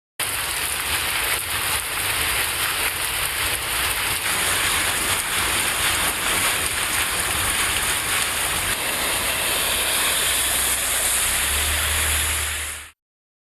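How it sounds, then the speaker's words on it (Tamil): Heavy rain falls for over an hour in Kumarapalayam, Namakkal district, Tamil Nadu, sending floodwater running along the road. A dense, loud, unbroken roar of rain and rushing water continues throughout, with no voices. "பெய்த கனமழையால் சாலையில் வெள்ளம் பெருக்கெடுத்து"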